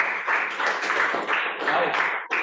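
Classroom applause for a student who answered correctly: a steady, dense patter of many hands clapping close by, sustained without break for a couple of seconds before a brief dip at the end.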